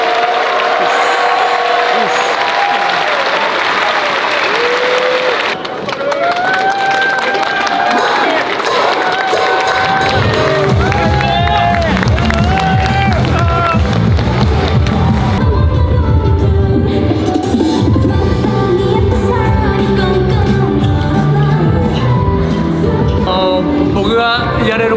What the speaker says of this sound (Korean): 주리 선수께 다시 한번 뜨거운 박수 부탁드리겠습니다.